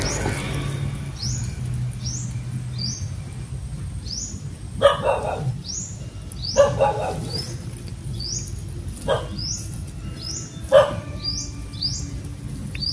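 A dog barks in short, sharp bursts at a distance, several separate yelps spaced across a noisy outdoor night scene full of chirping insects.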